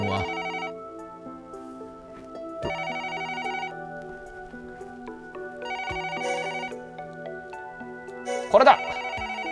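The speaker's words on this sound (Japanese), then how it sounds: "あ、電話だ。" A home telephone in the video game Another Code R rings repeatedly, with four warbling bursts about three seconds apart over soft sustained background music.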